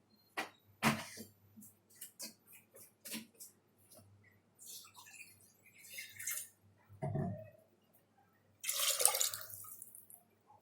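Water is poured into a pressure cooker for chicken biryani, a series of drips and splashes, then a louder trickling pour near the end, close by and with no talk.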